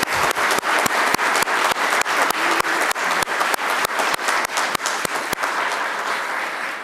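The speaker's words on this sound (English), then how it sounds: "Let's give them a round of applause." An audience at a legislative priorities event claps for two state legislators in a steady, evenly spaced rhythm, each clap crisp and distinct over a soft crowd wash, with no one speaking.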